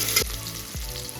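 Mixed vegetables sautéing in a pan for a one-pot masala rice, a steady close sizzle with two short scraping stirs, no voices.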